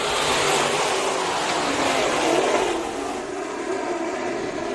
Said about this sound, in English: Buddy's been picking it up in these modifieds on the dirt